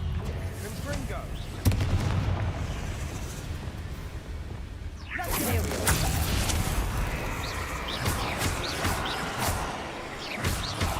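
A Confringo fire spell from the Hogwarts Legacy video game, heard as a sharp blast near 2 seconds and a bigger, sustained explosive burst from about 5 seconds, set against steady game ambience.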